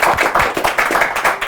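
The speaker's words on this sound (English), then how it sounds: "Let's clap for them." An audience claps at a domestic violence talk: dense, brisk hand clapping from many people, close and loud for a short burst.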